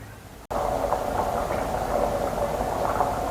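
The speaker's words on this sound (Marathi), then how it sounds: "राजम्याला उकळी आलेली आहे" Rajma curry coming to a boil in a pot, a steady bubbling rumble that starts abruptly and continues evenly, close and moderately loud with no talk.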